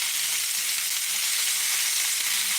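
The fatty edges of lamb chops stood on end sear in a hot cast iron pan, making a loud, steady, close sizzle with a continuous crackling hiss and no pauses.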